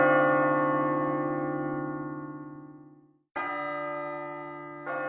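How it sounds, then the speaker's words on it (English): A church bell rings out in a storybook scene, one long resonant strike that decays slowly over three seconds, then a fresh loud peal and another strike just before the end, alone with no voices. "The rope rang the big bell right under Mrs."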